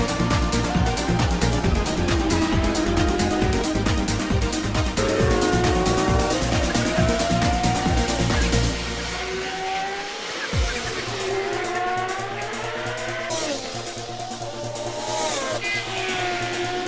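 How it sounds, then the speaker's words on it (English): Porsche race car at Oulton Park circuit spinning off: loud engine roar with tyre squeal and skidding, then a sudden drop as it slides into the gravel, followed by distant cars passing. "Another spin, this time racing journalist Rebecca Jackson. Unfortunately for Rebecca, she winds up beached in the gravel"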